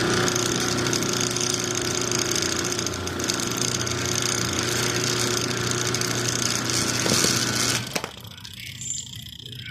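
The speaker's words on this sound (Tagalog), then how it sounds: "Baka tumakbo yung motor. Testing natin kung may forward reverse na siya." An exposed washing machine motor running under timer control, a loud steady droning hum with rattling that holds for about eight seconds, then cuts off abruptly as the motor stops before reversing.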